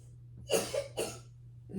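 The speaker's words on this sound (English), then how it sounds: "They're coughing." A sleeping person coughs in a few short, harsh bursts, close and fairly quiet, with a low steady hum beneath and no talking.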